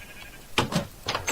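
A sheep bleats in a village-building video game, several short wavering calls close by over about a second, with no talk around them.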